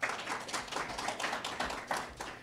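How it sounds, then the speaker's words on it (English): Faint, distant audience applause fills a business event about biotech and fintech companies moving to Northern Nevada. It is a steady patter of many hands clapping, heard on its own. "Let's give her a big round of applause."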